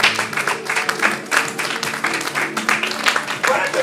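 Church congregation applauding during a worship service, a steady dense wash of clapping with rhythmic peaks, voices mixed in throughout.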